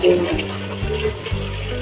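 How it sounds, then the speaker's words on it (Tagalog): Tap water runs steadily from a faucet as a tomato is washed under it, a continuous close splashing rush with no voices. "Ayan, hugasan natin mabuti po guys ang ating kamatis."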